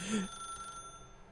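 A telephone rings insistently with a steady electronic tone, fairly loud and close, then the ring cuts off partway through as a brief low vocal sound passes underneath.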